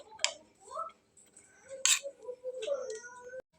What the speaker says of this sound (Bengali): একটু ঠেসে ঠেসে মিক্সড করে নেব সবগুলো একসঙ্গে।